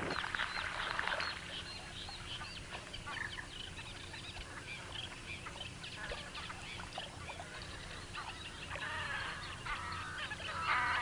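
Seabirds that dive for algae to offer each other as gifts call in honking, goose-like bursts, scattered across the scene and loudest at the start and end, with a low hum underneath.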